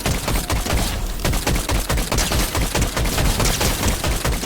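Rapid gunfire from shooting bots in Fortnite during aim practice, a dense, continuous string of loud shots with a fast, steady rhythm and no talking.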